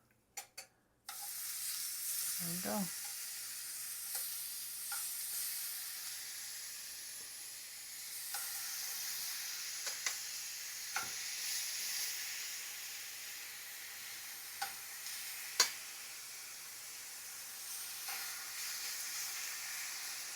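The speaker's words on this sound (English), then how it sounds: "Sizzles." Beef bulgogi sizzles and hisses steadily while searing in a hot pan, with occasional stirring clatter and a brief spoken remark near the start.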